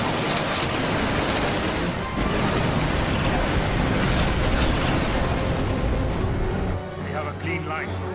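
A cannon volley from warships in the Final Fantasy XII game booms in a dense, continuous barrage of loud blasts and rumbling explosions, easing slightly near the end.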